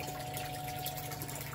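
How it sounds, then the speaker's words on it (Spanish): A water pump in a home hydroponic setup growing lettuce and cilantro runs with a steady, unbroken hum and gurgle of circulating water, faint and continuous with no talking. "y aquí tenemos nuestra bomba de agua."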